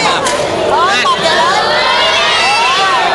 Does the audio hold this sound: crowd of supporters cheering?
yes